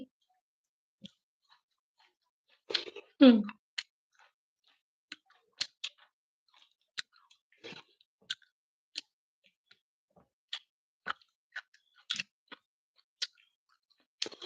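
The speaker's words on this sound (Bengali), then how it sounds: "এই যে দেখো বন্ধুরা, আমি সাজনা খাচ্ছি" Someone chews drumstick (moringa) pods up close, producing sparse, irregular crunchy clicks and snaps with quiet gaps between bites and one louder burst of chewing early on; no one talks.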